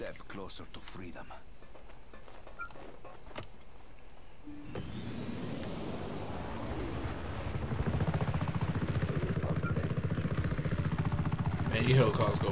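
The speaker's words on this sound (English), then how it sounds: "Oh, a helicopter." A helicopter in the video game Just Cause 3 spools up, its engine and rotor drone building steadily and growing louder, then holding as a sustained whirring roar.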